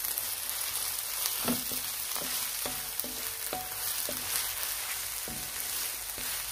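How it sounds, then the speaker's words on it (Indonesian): Grated coconut fries in a pan for sayur urap with wild garlic, hissing steadily while a spatula scrapes and knocks against the pan in an irregular stirring rhythm, close by with no talk. "Dan kita akan goreng juga."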